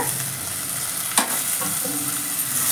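Tomatoes sautéing in a pan for tamarind curry give a loud, steady sizzle close by, broken by one sharp clink of a spoon against the pan, with no voices.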